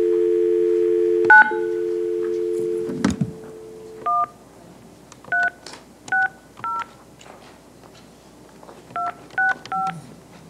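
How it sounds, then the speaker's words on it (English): A telephone dial tone is cut off by a clunk, then single touch-tone digits beep one by one in irregular groups as a participant is called during a committee meeting. No voices are heard. "We have another person by phone, Melanie Pruitt."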